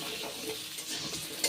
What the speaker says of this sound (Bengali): এই আলু আর গাজরটা এবার ভালোভাবে ভেজে নেব।